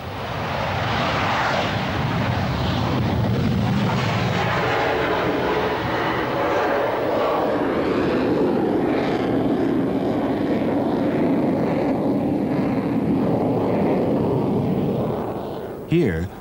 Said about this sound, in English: Another F-15 takes off and, for the photographer, makes a near vertical maximum rate climb.